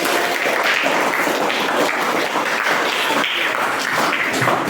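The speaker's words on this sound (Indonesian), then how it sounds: "sekarang kita tepuk tangan dan memberikan semangat dulu untuk diri kita sendiri ya" A school class claps hands together to cheer themselves on, a steady dense patter of many hands close by that fills the whole stretch without pause.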